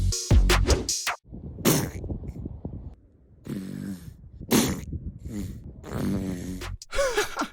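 A seal makes a series of wet, fart-like blurts and snorts in short loud bursts separated by brief pauses, close up and with no talking.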